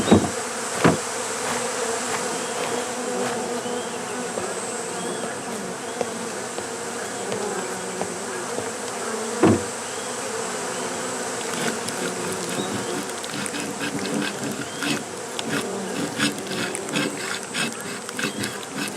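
Honeybees buzz around the hives of a Korean bee farm in a constant close hum, with occasional knocks and thumps from work at the boxes.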